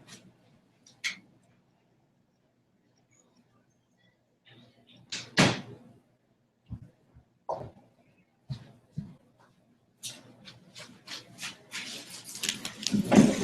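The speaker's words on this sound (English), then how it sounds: "I'm also gonna shut my kid's door." A bedroom door being shut at home at night: faint shuffling, then a few sharp knocks and thuds as the door closes and latches, followed by rustling movement nearby with no speech.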